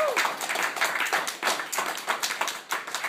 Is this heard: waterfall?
no